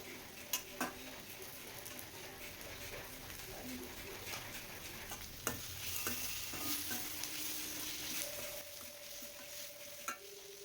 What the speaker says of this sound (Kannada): ಮಾವಿನಕಾಯಿ ಹಾಕ್ಕೊಂಡ್ಮೇಲೆ ಅದನ್ನ ಸ್ವಲ್ಪ ಹೊತ್ತು ಫ್ರೈ ಮಾಡ್ಕೋಬೇಕು.